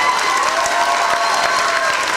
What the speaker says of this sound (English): Round of applause for Kiesler.